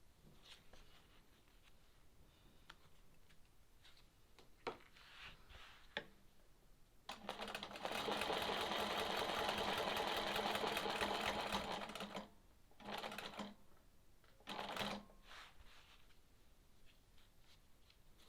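A sewing machine stitches quilting lines on a sawtooth star quilt block, running in a steady loud whir for several seconds, then in two short bursts, with soft handling noises in the pauses between.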